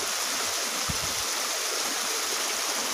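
A fast-flowing stream rushing through a small ditch, heard as a loud, continuous broadband wash of water with a faint low bump partway through, close by and without speech.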